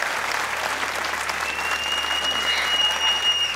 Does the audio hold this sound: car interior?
no